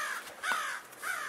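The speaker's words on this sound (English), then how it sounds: "Stupid crows." Crows caw in a quick series of harsh, nasal calls, fairly close and clear over a quiet outdoor background with no talking.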